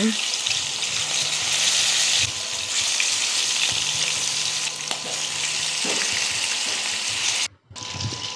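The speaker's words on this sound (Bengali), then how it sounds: "তেলটা একটু গরম হলে নাড়াচাড়া করে ম্যারিনেট করে রাখা মাছগুলো দিয়ে দিচ্ছি এখন আমি মাছগুলো ভেজে নেব" Marinated fish fry in hot mustard oil, giving a loud, dense, even hiss and crackle close up that runs nearly without a break, with faint clatter and a short gap near the end.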